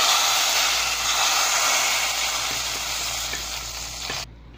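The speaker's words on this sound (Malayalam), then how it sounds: "ഇനി ഇത് സാമ്പാറിലേക്ക് ഒഴിച്ചു കൊടുക്കണം" A tempering of curry leaves and onion in hot oil is poured into Kerala sambar and hisses loudly, a strong close sizzle that slowly fades and then cuts off abruptly near the end.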